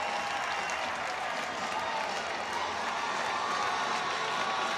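A hockey arena crowd roars and cheers loudly and continuously after a home-team goal, a dense wall of applause and shouting with no break.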